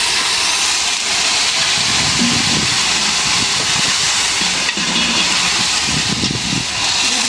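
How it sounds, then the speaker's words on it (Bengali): Water splashes into a hot pan of frying potatoes, onions and spices, setting off a loud, continuous hiss of steam that keeps roaring close up for several seconds. "মশলা কষানোর জন্য পানি দিয়ে দিলাম।"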